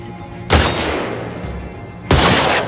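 Two bursts of loud rifle gunfire in The Last of Us Part II, each a sharp report trailing into a long rumbling decay, the second arriving about a second and a half after the first, with no talk over them.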